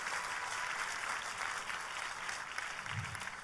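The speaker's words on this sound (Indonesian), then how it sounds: "Kita berikan tepuk tangan yang paling meriah." Applause from a church congregation during a sermon, a steady wash of clapping at moderate level throughout, with a brief low thump near the end.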